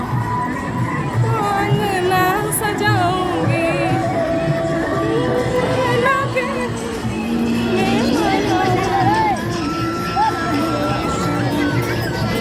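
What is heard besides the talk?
large crowd of pilgrims at Sarayu river, Ayodhya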